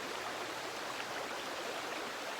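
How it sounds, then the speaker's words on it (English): Creek water flowing steadily on a calm day, a continuous broad rushing wash with no breaks, fairly loud and close, no voices. "I hope you enjoy the creek."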